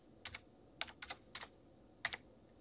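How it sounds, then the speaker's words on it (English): Computer keyboard typing of a new password: a few short bursts of two or three close, crisp keystrokes with brief pauses between, near and clear over a quiet background. "Type in a new password"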